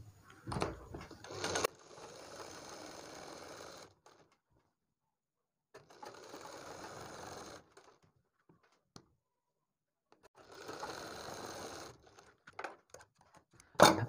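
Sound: sewing machine stitching along the buckram edge of a kurti neck

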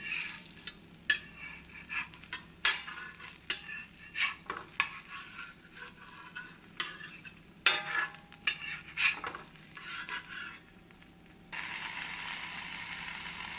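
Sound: flipping a maida dosa on the pan

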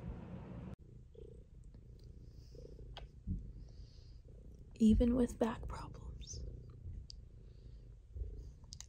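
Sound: cat purring

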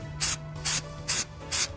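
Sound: spraying Flex Seal onto rain poncho seams

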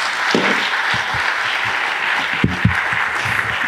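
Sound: audience applause after a talk

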